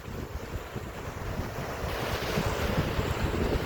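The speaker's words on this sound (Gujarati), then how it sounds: "આ છે દરિયાકાંઠો." Sea waves wash onto the seashore in a continuous rushing surge that swells slightly louder toward the end, mixed with gusty wind buffeting the microphone, with no voices.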